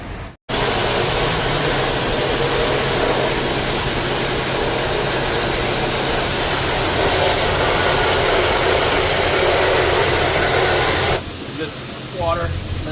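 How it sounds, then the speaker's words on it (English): Water sprays in a strong, steady hiss against the oil pan of a Honda Del Sol, a continuous loud rush that runs for about ten seconds before stopping, with faint chirps heard afterward. "and then we're gonna spray some water."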